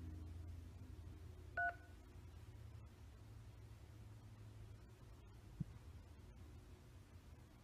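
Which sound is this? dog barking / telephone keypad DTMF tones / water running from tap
telephone keypad DTMF tones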